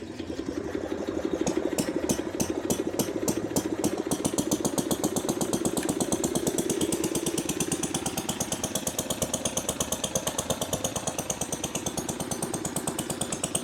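An old Delco Light plant engine runs steadily on its own, a rapid, even chugging beat with mechanical clatter, moderately loud and close, with no talking.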